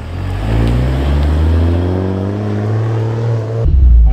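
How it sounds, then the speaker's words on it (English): A Toyota Supra MK4 with a noisy rear differential drives along, its engine holding a steady droning tone with a layered hum that rises slightly, loud and close from inside the car before cutting off abruptly near the end. "this car's got a freaking noisy diff"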